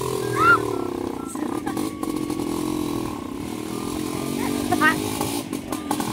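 A motorcycle engine riding through high-tide floodwater in Barangay Gugo, a steady close buzzing drone with small revving surges, overlaid by people talking and exclaiming.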